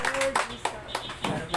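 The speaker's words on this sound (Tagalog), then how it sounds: "Isang malakas na palakpak sa ating Panginoon." A congregation at an afternoon church worship service gives a quick burst of hand clapping, short and fairly loud, mixed with a speaking voice.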